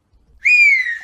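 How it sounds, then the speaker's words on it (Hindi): A woman tied to a chair whistles a single loud, clear, sustained note lasting under a second, slightly falling in pitch, alone against silence. "सास को देखते ही दोबारा सीटी बजाने लगती है।"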